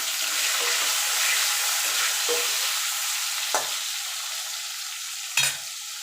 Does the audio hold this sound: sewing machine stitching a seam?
no